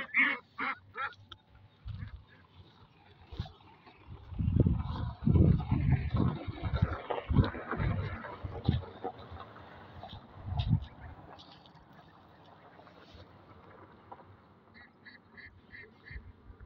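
A flock of about twenty geese and twenty to thirty ducks at pasture on a late-May afternoon, honking and quacking in bursts that swell loud and close in the middle, then settle into scattered calls.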